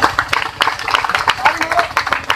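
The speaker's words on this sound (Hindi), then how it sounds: "ताली मारिए" A gathered street crowd at a magic show claps in quick sharp bursts, close and irregular, as someone talks over the applause.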